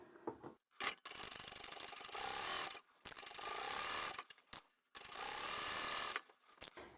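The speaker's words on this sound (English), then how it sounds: "So let's go and sew both of those sides now." A sewing machine runs in several bursts of rapid stitching along the sides of a large fabric tote bag, with short pauses between runs, close and clear.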